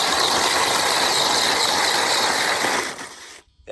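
A DEERC Sandy 1/18 scale four-wheel-drive RC car runs across ice, giving a steady, close, buzzing electric motor whine with rattling drivetrain clatter that cuts out near the end.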